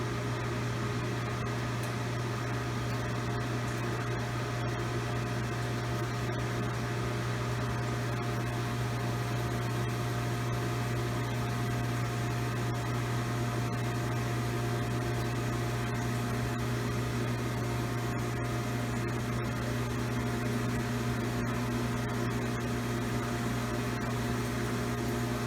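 A pump drives fluid through a flow system with a flow control valve, making a constant low mechanical hum with steady tonal drones that never changes in level. No voices are present.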